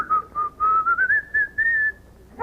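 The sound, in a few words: person whistling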